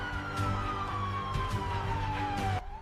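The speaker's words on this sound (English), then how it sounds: "The sirens wailed," A police siren wails with a slowly falling pitch over steady traffic rumble, then cuts off abruptly near the end.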